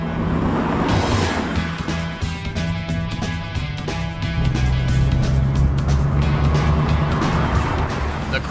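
A DeLorean DMC12 with its 2.8-litre V6 drives along the road, the engine note rising and dropping as it pulls away and changes pace, heard steadily and fairly close over continuous road noise.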